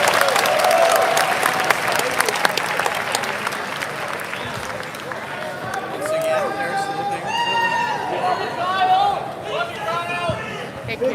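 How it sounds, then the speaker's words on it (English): A crowd claps for Kyle Kulinski and Charlie Kirk at Politicon 2019, with a loud, dense burst at first that thins into scattered clapping and crowd murmur as a voice talks over it. "let's give a big round of applause for Kyle and Charlie"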